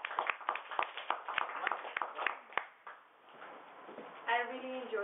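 Scattered audience applause at a workshop speech session, a few distinct claps ringing out for about three seconds before fading as talking voices take over.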